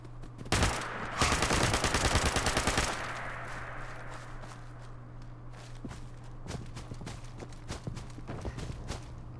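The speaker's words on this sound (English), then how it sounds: "Let's try the submachine gun." Submachine gun fire in Fallout 76's Nuclear Winter mode: a loud two-second burst of rapid shots, then a string of scattered single cracks and thumps over a steady low hum.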